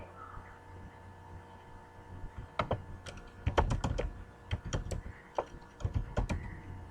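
Typing on a computer keyboard at a terminal, with quiet scattered keystrokes building into closer, faster clusters of clicks over a low background hum.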